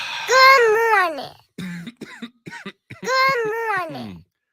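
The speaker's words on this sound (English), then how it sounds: "Keep coughing." In a live sports radio studio, a voiced, drawn-out cough sounds twice, loud and close, with short throaty bursts between them.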